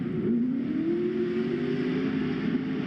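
Drift car engine at a pro drift series qualifying event, held hard against the rev limiter with a sustained, slightly rising buzzing drone heard from a distance over crowd ambience.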